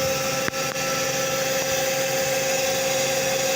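A DC shunt motor runs steadily on a lab test bench, giving a constant whine and hum with one or two brief clicks near the start.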